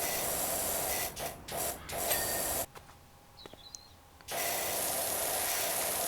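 A pressure washer nozzle sprays in PowerWash Simulator while cleaning a back garden, making a steady, loud broadband hiss that cuts out for about a second and a half, then resumes.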